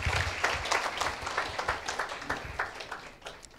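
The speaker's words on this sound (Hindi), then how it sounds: "एक जोरदार ताली देंगे परमेश्वर की महिमा के लिए।" A church congregation claps for the glory of God, a fairly light, uneven patter of hands with individual claps standing out and fading toward the end.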